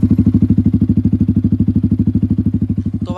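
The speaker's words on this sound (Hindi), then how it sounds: "भाई ये इसका एग्जॉस्ट साउंड है" Yamaha R15 V4 motorcycle fitted with an SC Project aftermarket exhaust, running with a loud, close, rapid and steady pulsing exhaust burble, then a brief higher sound right at the end.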